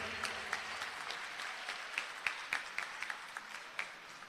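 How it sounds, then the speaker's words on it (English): Applause from a large crowd at a provincial political rally, a steady far-off wash of clapping with a few sharper claps standing out, continuing without pause. "I'd like to give you all a round of applause"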